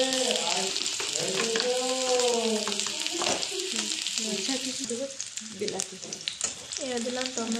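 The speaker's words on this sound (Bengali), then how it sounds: "পেঁয়াজটা ক্যাপসিকামটা একটু হাফ সিদ্ধ করে নেবো আমরা।" Onion and capsicum fry in a pan for paneer chilli, a continuous sizzling hiss with stirring scrapes, partly masked by a loud tonal sound that rises and falls over it.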